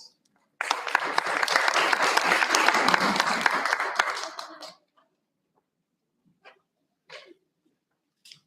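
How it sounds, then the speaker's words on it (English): Audience applause at a school board meeting, a dense burst of clapping lasting about four seconds before fading out, followed by a few faint scattered noises in an otherwise quiet room. "One last round of applause"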